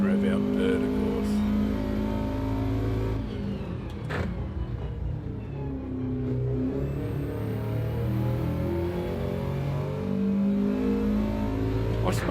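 A race car engine revs through third gear in a racing video game, a loud, droning, harmonic engine note rising and falling with gear changes as the car laps the track, with a commentator's voice talking over it.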